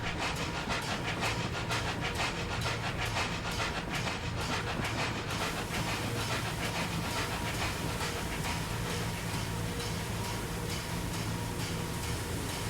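A steam locomotive in Train Simulator 2021 on the Fife Circle Line chuffs in a steady, continuous rhythm, dense breathy puffs layered with rolling rail clatter, with no voices.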